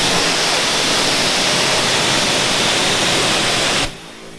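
Rinse water running off a car body during a wash of a Volvo V70N, a loud steady broadband rush that cuts off abruptly near the end, leaving a quiet background.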